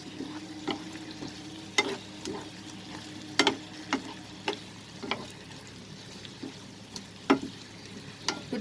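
Chicken sautéing in a frying pan as it is stirred, a steady sizzle broken by irregular sharp scrapes and clicks of the utensil against the pan, close and fairly quiet with no talking.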